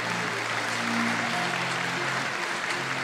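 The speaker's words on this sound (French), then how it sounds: "Merci de les applaudir." Audience applause at the Miss Excellence Picardie regional pageant final at the Faïencerie de Trèves, a sustained even patter of many hands clapping, with a faint low tone underneath.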